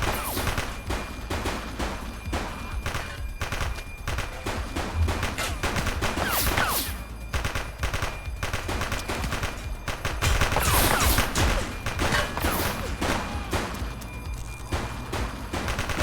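Gunfire in The Precinct, a police video game: dense, continuous volleys of rapid shots crackle loud and close throughout, with bursts overlapping and swelling near the middle.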